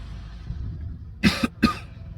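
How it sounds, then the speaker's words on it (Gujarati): Three short, sharp coughs come in quick succession, loud and close, over a quiet room background with no talking; the coughing of a person with a mild seasonal cold. "થોડી ખાંસી મને બી છે"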